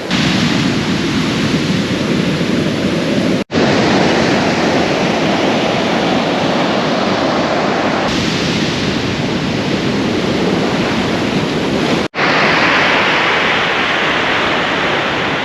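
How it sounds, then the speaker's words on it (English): Loud, continuous roar of ocean surf crashing close by on a beach at Puerto Escondido, Mexico, a dense wash of noise with brief cuts, no voices. "at least I can enjoy the sound of the waves"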